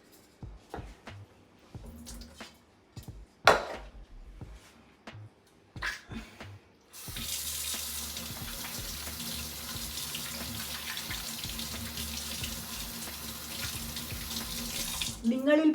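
A kitchen tap turned on mid-cooking to wash hands, first a few clinks and knocks, then a steady, full rush of running water filling the second half, close and fairly loud.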